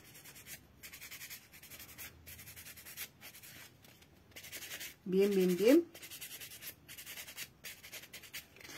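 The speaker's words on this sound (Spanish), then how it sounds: "Vamos a lijarlas." Craft foam pieces are hand-sanded in short, repeated rubbing strokes at close range, quiet and broken by brief pauses, with someone speaking briefly in the middle.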